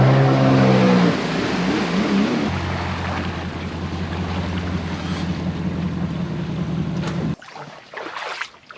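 A 2021 Sea-Doo Spark Trixx personal watercraft runs with its trim all the way down, a steady engine drone over rushing water and wind that cuts out abruptly near the end, leaving splashes and rustling.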